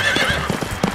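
A horse gallops with quick clip-clop hoofbeats and neighs in a 3D horse race mobile game advert, loud and close within a brief burst.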